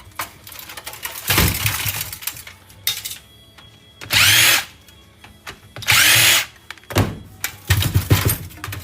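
Power drill driving screws out of scrap electronics on a workbench, several loud bursts of whirring, each one to two seconds long, separated by clunks and handling noise.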